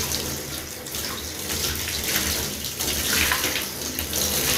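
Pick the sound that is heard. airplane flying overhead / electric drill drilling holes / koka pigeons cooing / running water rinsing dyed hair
running water rinsing dyed hair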